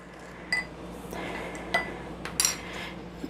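A spoon stirs creamy keto chicken casserole ingredients in a dish, giving a few light clinks and scrapes against the bowl, close and quiet.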